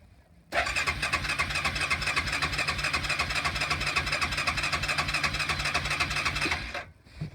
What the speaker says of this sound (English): Alright, so I'm going to go ahead and start this thing up. Probably going to be a cold start actually.